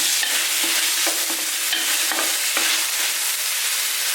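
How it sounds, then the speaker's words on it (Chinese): Scallion, ginger, garlic and tomatoes stir-fried in a hot wok for soup, with continuous loud sizzling and rhythmic scraping strokes of a spatula roughly every half second, close and with no voices. "要葱姜蒜先放进去煸炒，然后西红柿放进去"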